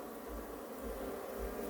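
A honeybee carrying pollen on its legs buzzes steadily and close by near a hive, with a continuous droning hum that swells slightly in a few pulses throughout.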